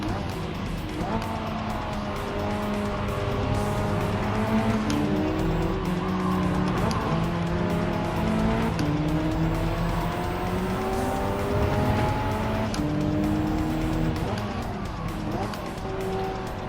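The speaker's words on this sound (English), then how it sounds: "trying to drift it round the corners like that isn't really going to help" A race car drifting through corners in Gran Turismo 7, engine note rising and falling with gear changes and long squealing tire slides, loud and continuous throughout, with brief talk over it.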